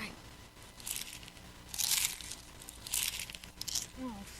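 Crunchy popcorn snacks, including caramel corn and kettle corn, are chewed in loud bursts of crackly crunching, with a brief voice at the end.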